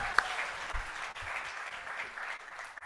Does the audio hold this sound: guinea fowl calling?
no